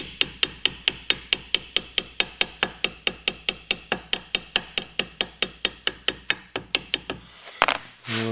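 Hammer shaping brass sheet for an ornamental flask, with around thirty sharp, evenly spaced blows at a steady rhythm, close and loud, followed by a brief scuffing noise at the end.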